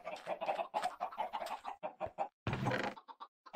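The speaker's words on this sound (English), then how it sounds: "I want that sucker packed full so that I have lots and lots of chickens laying, lots and lots of eggs" Chickens in a Minecraft-style modded video game cluck in rapid, busy bursts, many short clucks overlapping close and clear, with one longer squawk midway.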